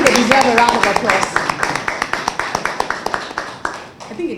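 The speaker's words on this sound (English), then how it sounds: "I think they deserve a round of applause." A round of clapping from an audience at a televised central bank economy programme, distinct individual claps in a quick, slightly uneven rhythm, fairly close, fading out near the end.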